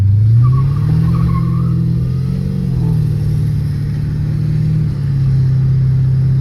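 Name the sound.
car driving and shifting gears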